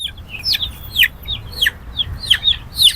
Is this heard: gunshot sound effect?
no